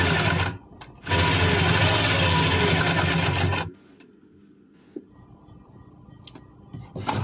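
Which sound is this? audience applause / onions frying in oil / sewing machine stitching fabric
sewing machine stitching fabric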